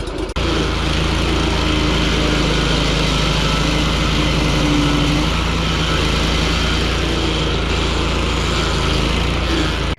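A stump grinder's engine, used for cutting down tree stumps, catches almost immediately after the key is turned and then runs at a loud, steady idle close by for the rest of the clip, with no talking.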